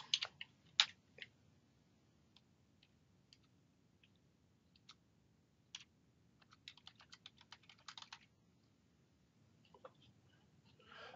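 Typing on a computer keyboard while entering card design text in Zebra CardStudio software: scattered soft key clicks, then a quick burst of rapid keystrokes near the middle, faint and close over a low background hum.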